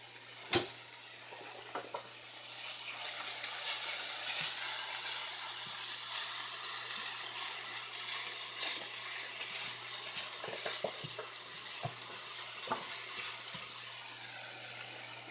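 Beef and mushrooms fry in oil in a skillet with a steady, bright sizzle throughout, broken by occasional sharp clicks and scrapes of stirring close by.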